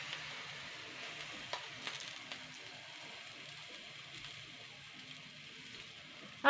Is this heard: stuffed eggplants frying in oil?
yes